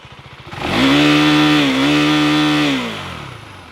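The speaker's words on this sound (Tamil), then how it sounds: "பட் பழைய டியூக் 390 கம்பேர் பண்ணும்போது இந்த டியூக் 390 எக்ஸாஸ்ட் நோட் பெட்டராக இருக்குன்னு எனக்கு தோணுது" A KTM Duke 390 exhaust revs up from idle, rising into a loud sustained buzzing drone with a slight dip mid-rev before easing back down, close and alone.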